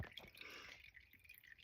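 Quiet trickle of water dripping and running from an air conditioner's leaking tube, a soft continuous wet patter with faint splashes, heard close up with no voices.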